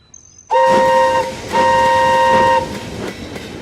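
A train blares two long, loud whistle blasts over the rumble of heavy wagons rolling along the rails close by.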